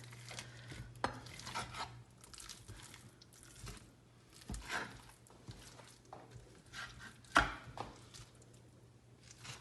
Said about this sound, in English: Then he'll use a spatula to break up the meat